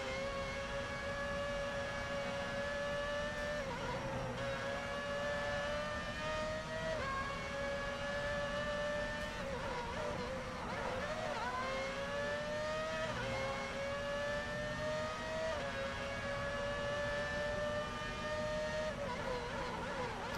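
In F1 Championship Edition on PS3, a Formula 1 car's engine whines through a lap, its pitch climbing and dropping sharply with repeated gear changes and lifts, heard fairly faint and continuous.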